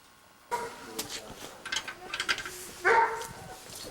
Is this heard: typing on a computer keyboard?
no